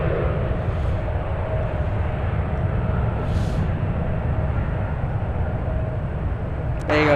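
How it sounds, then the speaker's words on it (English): An Embraer E175 jet takes off at San Francisco airport, heard from a distance as a steady broad roar that holds at moderate level throughout, with no talk. "The E175 taking off right now."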